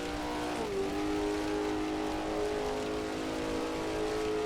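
A 1939 Grand Prix race car in Assetto Corsa, at the Tripoli circuit, drops in pitch on a gear change and then pulls at full throttle with a steady, rising engine drone, loud and continuous, no voices.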